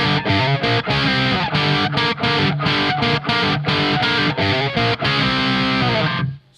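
Electric guitar through a Marshall JCM800 2203 amp with a Bad Boy drive pedal set to low gain, loud distorted chords strummed in a rhythmic pattern with brief gaps, ringing out before cutting to silence at the end.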